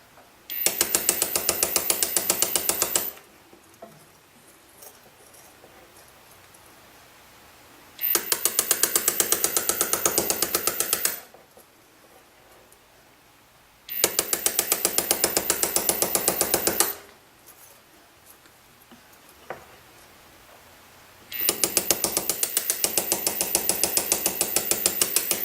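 A Foredom hammer handpiece sets a stone into a bezel, giving rapid, close mechanical tapping in four separate bursts of about three seconds each, with quiet pauses between and no voices.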